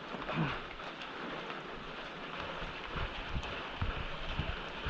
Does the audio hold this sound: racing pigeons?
no